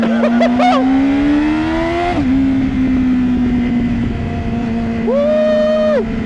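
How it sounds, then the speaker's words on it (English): A loud Yamaha R6 sport motorcycle engine revs nearby, its pitch climbing and dropping, then settling to a steady roar before another sharp rev. "that's the best thing about this bike, the noise"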